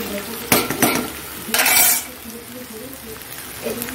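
Potatoes and green chillies fry in a pan, with a steady sizzle under loud metallic clanks and scraping bursts of a spatula stirring against the cookware, heard close with no talking.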